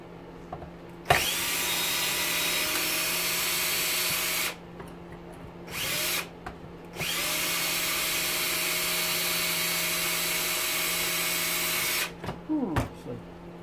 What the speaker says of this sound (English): It's like 10 feet long, these screws. And they have to be unscrewed to get them out.